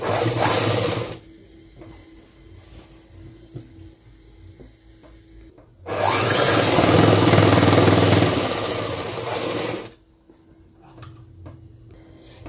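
A sewing machine stitches a school uniform skirt in two bursts, a short one at the start and a longer four-second run later, loud and close, with quiet gaps between and no talking.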